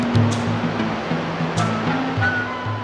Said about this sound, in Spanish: Poderosas cascadas alimentan los afluentes del Gran Amazonas